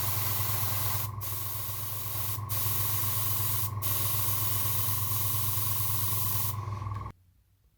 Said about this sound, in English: I'm just going to spray a darker grey around those holes